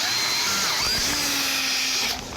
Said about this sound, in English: And we'll drill it out to the bolt size.